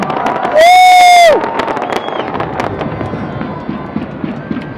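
A Saudi World Cup celebration with fireworks crackling and popping over a crowd, opening with a loud sustained whistle-like tone before settling into dense, continuous crackle and crowd noise.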